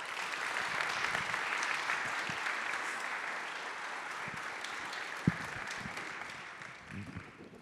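An audience applauds in welcome for Harmeet Dhillon at a fireside conversation, a sustained wash of clapping that slowly fades, with a few scattered thumps near the end.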